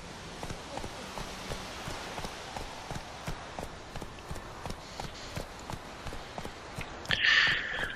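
A horse galloping in the open-world game Witcher 3 produces a steady, rhythmic run of close hoofbeats. A brief, brighter burst of sound comes in near the end.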